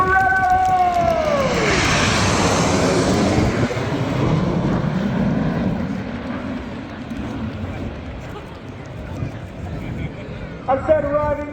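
RAF Red Arrows aerobatic jets arriving in Diamond 9 formation at the Royal International Air Tattoo 2024, a loud roaring jet pass that swells and fades into a distant rumble, with a public-address commentator talking over it.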